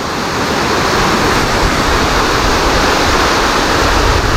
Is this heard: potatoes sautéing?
no